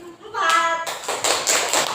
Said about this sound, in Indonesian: Jadi kita beri tepuk tangan dulu untuk kelompok 4.